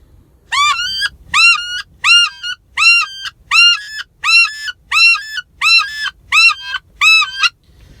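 A wooden duck call imitates a flying wood duck: about a dozen evenly spaced, squealing whistled calls, each rising then falling, blown loud and close with brief silences between them and no talking.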